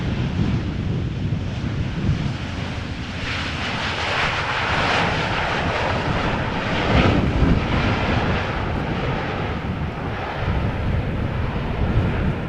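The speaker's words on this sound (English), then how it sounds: "So this is KLM flight 1620 arriving from Milan. Boeing 737-800." A KLM Boeing 737-800 lands at Amsterdam Schiphol after rain, its broad jet engine roar loud and sustained, with wind buffeting the microphone the whole time and no one speaking.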